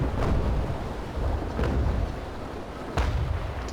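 Ship cannon fire at sea in the naval combat game Naval Action, heard as a steady low rumble with three distinct booms spaced about a second apart, deep and thundering like distant artillery.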